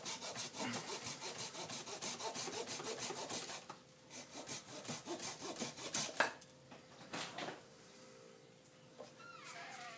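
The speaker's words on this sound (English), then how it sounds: "Now I'm going to cut down." A hand saw cuts downward into a bonsai tree trunk in fast, even back-and-forth strokes, close and rasping, slowing into a few scattered scrapes toward the end.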